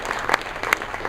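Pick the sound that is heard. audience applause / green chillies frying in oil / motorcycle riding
audience applause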